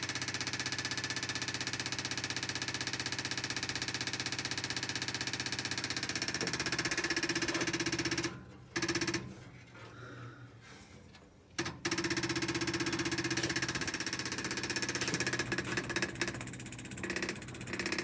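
A small engine that has sat unused for two weeks runs with a steady, rattling idle. It cuts out briefly twice midway and then resumes its even, buzzing chug.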